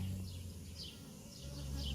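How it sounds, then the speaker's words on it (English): A swarm of honey bees flies around a tree and gathers toward a capture box, a steady low drone of buzzing wings that swells slightly near the end. "the ones that's flying in the air, they're gravitating towards that box"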